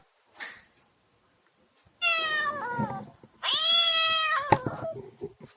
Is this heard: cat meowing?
yes